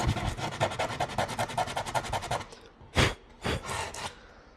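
A joint in a wooden deck board being scraped down by hand, a fast rhythmic series of close rasping strokes followed by a pause and two longer, louder scrapes.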